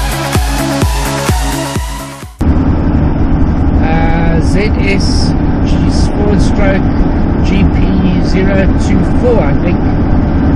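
Steady engine and road drone inside a moving car on an early-morning drive to a hilltop, loud and continuous after an opening burst of music, with voices talking over it throughout.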